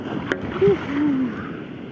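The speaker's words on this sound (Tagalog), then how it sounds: "Oh, laki ng alon." Large sea waves splashing against a small fishing boat, a close wet sloshing with brief splashes, accompanied by faint vocal sounds.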